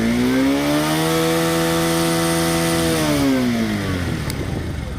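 A Bajaj Pulsar 150 motorcycle engine screams loudly at high revs past 10,000 RPM, holding a steady whining pitch for about three seconds before the revs begin to fall away.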